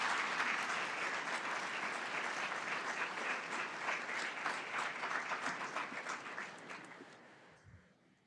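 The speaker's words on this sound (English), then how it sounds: "Let's give our panelists another round of applause." Sustained applause from an audience honoring panelists at a women's leadership forum, steady dense clapping for about seven seconds before fading out near the end.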